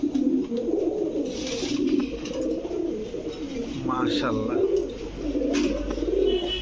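A short-faced pigeon coos in low, rolling repeated calls close by, steady through the clip, with a person briefly speaking over it.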